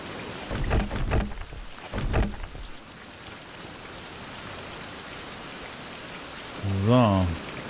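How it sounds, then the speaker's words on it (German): Steady video game rain patter fills the background throughout, with brief voices and a short tonal sound near the end rising over it. "Nutzen wir die Zeit, während es regnet."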